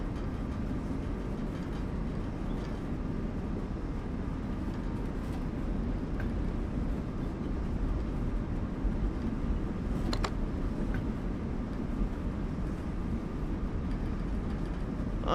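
A train passing in Train Sim World 4 on the Semmeringbahn, a continuous, loud rumble of wheels and carriages with a brief sharp squeal partway through, steady from start to finish.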